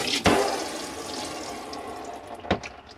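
Water runs steadily from a tap in a Swift Escape Compact 404 caravan, fed by a pressurised pump, a continuous broadband hiss with two brief louder splashes or knocks near the start and end.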